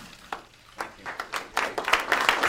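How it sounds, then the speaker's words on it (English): Tepid, scattered applause from an audience at a political speech about health care, a thin patter of a few claps that builds slightly but stays sparse and unenthusiastic. "Golf applause."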